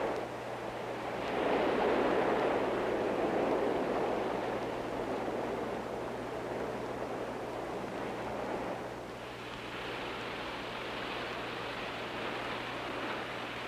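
Ocean surf breaking along a shore, a steady broad wash of waves swelling and easing, fairly faint and distant with wind noise and a low hum underneath.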